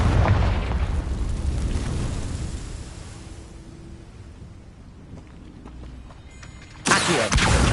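A Confringo spell explodes in Hogwarts Legacy with a deep rolling boom that slowly decays into a low rumble, then a sharp second burst near the end.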